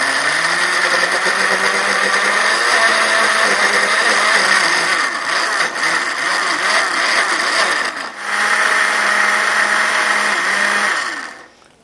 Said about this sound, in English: turn on my blender.